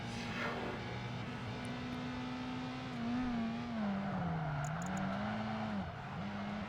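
A front-wheel-drive coupe's engine races steadily in Project Gotham Racing 2, a sustained drone whose pitch rises and dips with shifts and throttle changes, loud and continuous with no talking.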